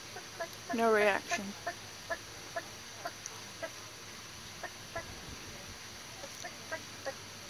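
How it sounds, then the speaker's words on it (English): A chicken in Kauai, Hawaii gives a short burst of clucking near the start, followed by sparse soft clucks and pecking sounds; a voice speaks briefly. "We have an interesting chicken."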